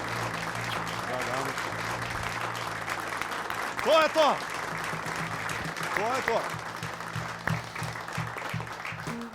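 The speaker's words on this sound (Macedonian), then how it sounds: "аплауз за Пеперминт" Studio audience applause in a TV studio swells as a continuous wash of clapping, with someone speaking and brief voices rising over it partway through.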